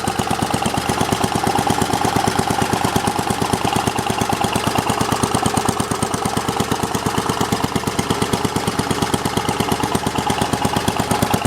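Simplicity 7010 garden tractor engine running at idle and full throttle, a loud, close, rapid chugging pulse that stays nearly constant throughout with only a slight change in pace.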